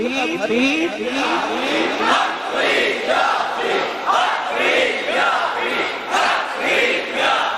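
A crowd at a religious gathering chants devotional slogans in loud, rhythmic unison, with the massed voices rising and falling steadily throughout.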